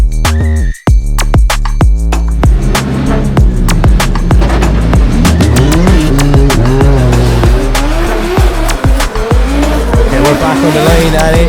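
A BMW 2 Series G42 drift car at a qualifying run roars past with high-revving engine bursts and long, loud tire squeals, its pitch rising and falling as it slides close by.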